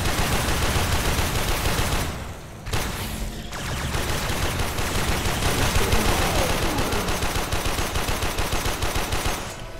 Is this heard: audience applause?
no